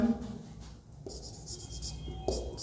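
Pen or chalk writing during a physics lesson on current electricity, a soft scratchy scrawl running through, close by, with breathy background noise and no clear talk.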